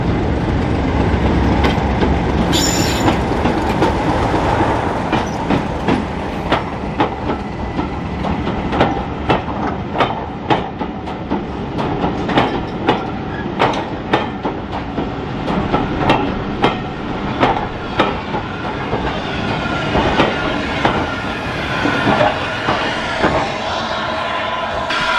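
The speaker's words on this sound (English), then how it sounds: "D6732, a Class 37 built by English Electric in 1962." Train hauled by Class 37 diesel locomotive D6732, built by English Electric in 1962, on a heritage railway gala: loud, close rumble with a steady clickety-clack of wheels over rail joints running throughout, and a brief high squeal early on.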